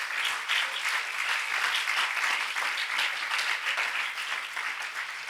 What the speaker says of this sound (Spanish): Y le dan un aplauso a Jesús por eso.